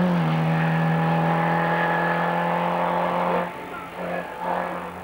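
A race car at the 1993 Forêt-Auvray hillclimb in France holds a loud, steady engine note with strong tonal harmonics, then eases off and revs again in short bursts as it drives past.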